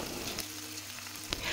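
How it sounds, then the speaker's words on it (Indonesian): Galangal, ginger and lemongrass sautéing in a pan over medium stove heat, giving a steady close sizzle and crackle of frying spices with a brief stir clatter, no talking. "di sini aku gunakan api kompor yang sedang untuk menumis"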